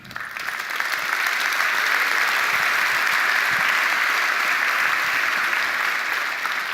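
Loud, steady audience applause from a large crowd, sustained clapping that swells in quickly and holds evenly throughout.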